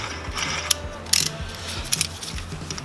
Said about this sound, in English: ratchets, put in there, start ratcheting, it'll expand the calipers out.